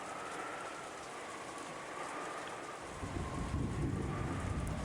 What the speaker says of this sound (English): the rain was falling in earnest.